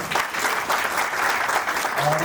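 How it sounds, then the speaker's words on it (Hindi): An audience at a bank clerk training cultural programme breaks into sustained, dense clapping that fills the whole moment, loud and steady without pause. "एक बार जोरदार तालियां अपने लिए बजाइए पहले।"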